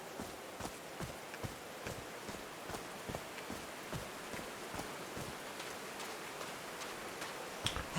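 Steady rain hisses down in the video game Call of the Sea, with footsteps tapping at an even pace through the downpour and no voices.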